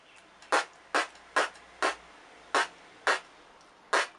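A beatboxer makes a trap snare with the lips: seven sharp, bright, breathy pops at an uneven pace, close and alone against near silence, a voice imitating a drum-machine snare.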